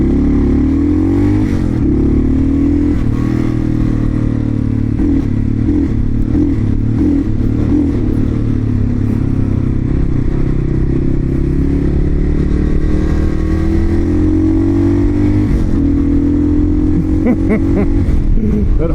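A cheap used motorcycle fitted with a center stand, crash bars and an upgraded front brake rides through city streets, its engine droning steadily and loudly throughout with shifting revs and road clatter, wind noise close to the rider.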